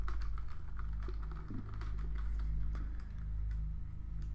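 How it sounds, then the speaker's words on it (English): Keys on a computer keyboard are struck rapidly one after another, close and clear, a dense run of clicks with no voices. "let's hit every key on my keyboard"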